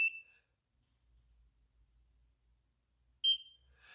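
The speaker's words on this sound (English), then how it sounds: "The second beep means that the laser treatment has been completed for that section of skin." A NIRA home laser skin treatment device gives two short, high electronic beeps, one at the start and another about three seconds later, clear and close in near silence.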